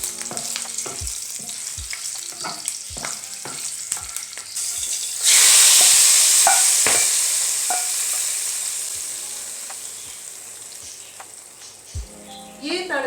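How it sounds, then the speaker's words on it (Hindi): Loud, steady sizzling of a tadka of spices and green chilies hitting hot oil for mash daal, with a sharp burst of crackle midway and some clattering stirring around it. "ये तड़का हमने डाल दिया है माश की दाल का"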